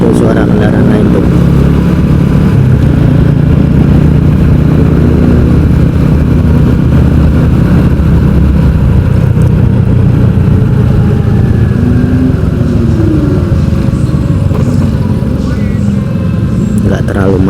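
Surrounding traffic heard from a moving motorcycle on a Jakarta city street, a dense continuous rumble of engines and wind, loud and close throughout, with someone talking over it.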